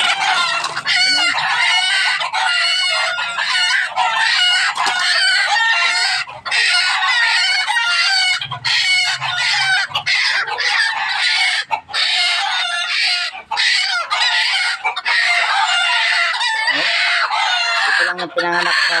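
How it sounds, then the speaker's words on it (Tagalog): Bantam labuyo junglefowl rooster clucks loudly and insistently at close range, with crowing mixed into a dense, almost unbroken run of calls and brief gaps, plus faint low background noise. "Labuyo to. Masdan nyo. Hindi ito peke."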